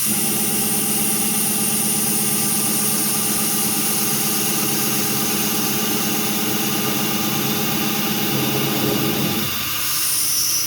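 A Langmuir Systems MR-1 CNC mill spindle spinning at 8,000 RPM while machining vise soft jaws, a loud steady whine with a constant machine drone that drops away abruptly near the end.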